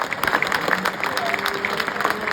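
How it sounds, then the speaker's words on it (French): At a livestock auction of a Limousine beef calf, the crowd breaks into steady applause after the sale, with voices talking over the clapping. "on peut applaudir très fort"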